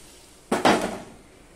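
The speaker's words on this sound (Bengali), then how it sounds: "আর এবার আমি ডালটা দিয়ে দিচ্ছি।" Cooked moong dal poured into a hot pot for a no-onion, no-garlic Bengali niramish dish, two quick splashy hits that fade into a short sizzle, close and fairly loud, with no talk.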